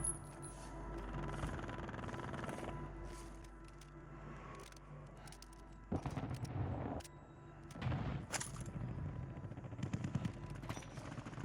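Gunfire in a Warzone match on the Vondel map rattles as a dense, sustained barrage of shots and booms, with heavier bursts near the end, loud and unbroken throughout.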